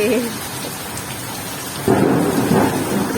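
Heavy rain pours steadily onto wet surfaces with water pooling, a thick close hiss, and a deep roll of thunder swells in halfway through and rumbles on to the end.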